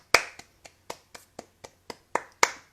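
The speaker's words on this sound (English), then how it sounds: "Can you all just give me a round of applause" About nine sharp hand claps, close and fairly loud, spaced irregularly across a few seconds, with no talking. The sparse claps sound like one or two people clapping rather than a full crowd.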